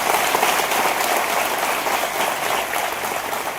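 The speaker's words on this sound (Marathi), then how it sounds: "आज सर्वात पहिले एक मोठा टाळ्यांचा गडगडा होऊन जाऊ दे" Sustained applause from a large gathering at a student felicitation ceremony during a political workers' meeting, dense and even throughout with no voices on top.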